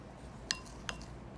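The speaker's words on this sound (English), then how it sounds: "And then just mix everything together" Two light clinks of a utensil against a bowl while marinade of toasted sesame seeds and ground black pepper is mixed, spaced apart over a quiet background.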